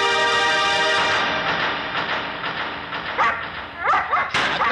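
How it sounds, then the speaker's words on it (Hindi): A dog yips and barks in short bursts over a steady, loud background hum with many tonal layers. "फिर क्यों भौंक रहा है?"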